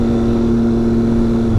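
Yamaha RX100 motorcycle engine running close and loud with a steady, buzzing drone that holds an even pitch, rising slightly at the very end.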